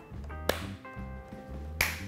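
Two sharp hand claps about a second apart ring out during a children's speech exercise, with an adult's voice talking around them.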